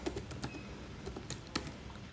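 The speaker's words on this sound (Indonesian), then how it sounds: "Lalu di sini kita ketikkan lagi dollar table" Quiet typing on a computer keyboard while building an admin panel, with scattered key clicks at an uneven rhythm and no talking.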